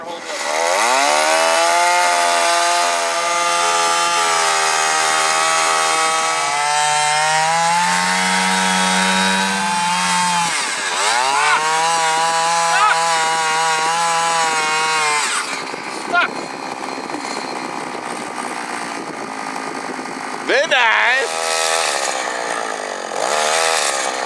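An ice auger drills through ice, its engine droning loud and close and rising and falling in pitch as it bites in, while people talk over it.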